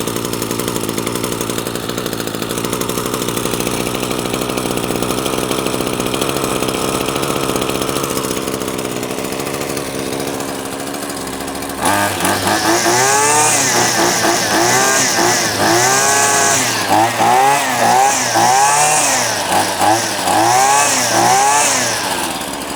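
A Neotech 26cc lawn trimmer's small two-stroke engine runs loud and close, droning steadily, then its pitch shifts as the throttle is adjusted, rising and falling in repeated revs.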